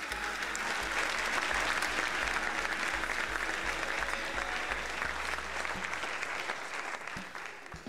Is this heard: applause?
yes